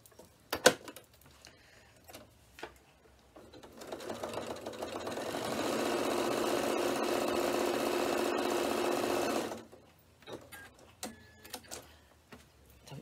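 A sewing machine stitches steadily around the edge of a handmade bag, one continuous run of about five seconds, close and fairly loud, with quiet ticks and handling sounds before and after.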